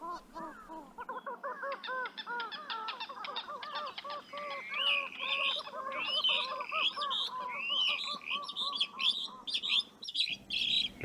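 Silver teal ducks and red-fronted coots call at a lagoon in Laguna de Monte, a dense flock chorus of repeated honking and nasal calls with higher chirps layered on top, continuous and fairly close, with no talk.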